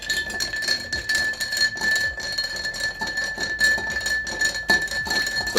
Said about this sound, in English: So what we're going to do now is give it a light stir,